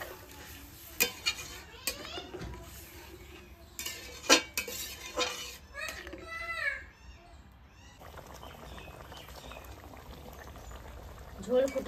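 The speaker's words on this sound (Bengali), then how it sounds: "ঝোল ফুটে উঠেছে।" Potato curry with spices and coconut milk bubbles in a pot, a steady simmering hiss broken by sharp clinks and scrapes of a spoon against the pot.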